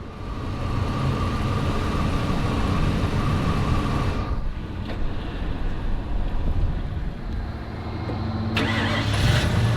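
A Ford Super Duty truck idles in four-wheel-drive low while stuck at a lake, a loud steady engine drone with wind buffeting the microphone, dipping briefly in the middle.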